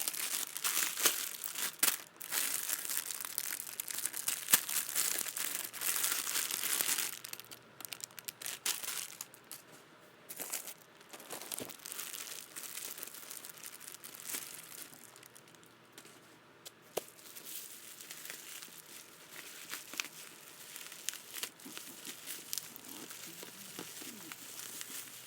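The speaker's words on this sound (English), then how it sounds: "I get some things out of the plastic" Plastic packaging crinkles and crumples almost nonstop as items are pulled out at an unboxing, with brief tearing bursts and occasional handling knocks, fairly close and with no talk.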